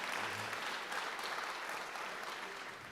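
Audience clapping at an awards ceremony for the Trophée des Talents de la Diversité, a steady wash of applause from a crowd that holds at an even level for the whole stretch and fades a little toward the end.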